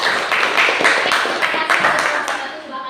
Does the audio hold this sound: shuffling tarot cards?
no